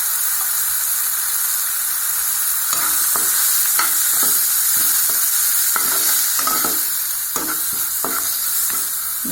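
Chickpea masala with chilli powder, turmeric and softened tomato frying in a pan: a loud, steady sizzle runs throughout, broken by a series of quick spatula scrapes and stirs.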